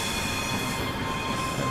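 A ScotRail Class 385 electric train in Train Simulator runs through the tunnel out of Glasgow Queen Street. A steady rumble of wheels and motor carries a thin whine throughout, close and continuous with no talk.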